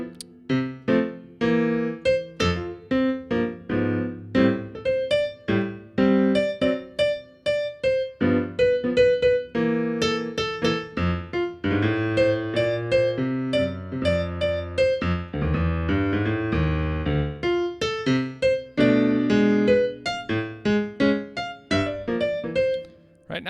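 Jazz piano with a confident comping left hand under a simple, hesitant right-hand improvised line, steady and close for over twenty seconds, with no talking.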